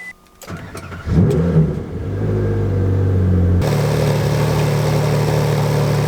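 A Ferrari 458 Speciale cranks over with a brief starter whir, bursts into a loud revving catch, then settles into a steady, rich idle that grows fuller and stays constant close by.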